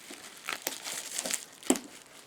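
Cardboard packaging of a portable camping stove being cut open, giving soft crinkling and tearing rustles with a few sharp crackles, close to the microphone and fairly quiet.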